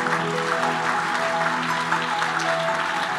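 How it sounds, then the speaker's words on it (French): A church congregation applauds and cheers during a sermon, dense continuous clapping with voices and sustained musical tones underneath, steady and full throughout. "On peut acclamer pour ce Dieu-là."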